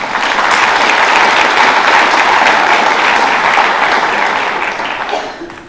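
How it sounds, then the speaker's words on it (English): An audience at an International Education Week lecture and world language honor society induction gives an honoree a round of applause, full and dense clapping that holds strong before tapering at the end. "Can we give her a round of applause?"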